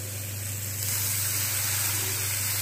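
Water poured into hot frying spices for a soya chunk and potato curry sets off a loud, steady sizzling hiss that swells after a moment and continues close up, with a low hum underneath and no talk.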